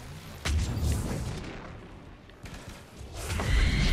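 Heavy booming shots from a sniper rifle in Mass Effect 3, one strong hit near half a second and another heavy blast near the end, each with a deep rumbling tail, close and loud with no talking.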